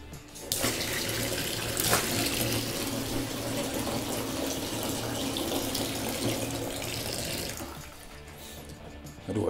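A tap runs close by, filling a sink to test newly fitted trap pipework for leaks in a rental property renovation in the UK; steady splashing water pours continuously for several seconds, then tapers off near the end.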